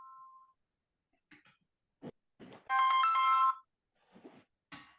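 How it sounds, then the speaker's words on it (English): A mobile phone ringtone bursts out for about a second as a bright, loud electronic melody, surrounded by brief scattered noises in an otherwise quiet room during a casting interview. "That was my phone ringing."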